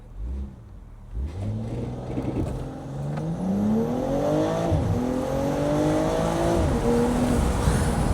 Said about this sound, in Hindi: एक बार इसका स्पोर्ट्स मोड लगाते हैं, मैं आपको इसको एग्जॉस्ट नोट जो है वो भी सुना देता हूँ